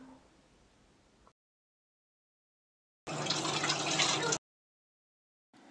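Water is poured into a soup pot for chicken soup, a loud rushing splash lasting just over a second that stands alone between quiet gaps.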